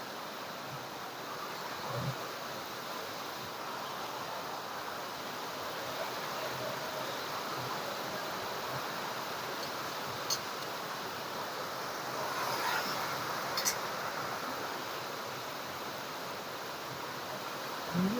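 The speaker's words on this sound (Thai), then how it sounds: "ฝนตกนักขนาดเลย" Heavy rain pours steadily in strong wind, a dense broadband hiss that holds constant throughout with occasional faint knocks and brief louder gusts.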